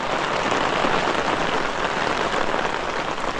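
Steady rain patters on the fabric of an inflatable tent in the mountains, a close, even, unbroken hiss of drops with no talking.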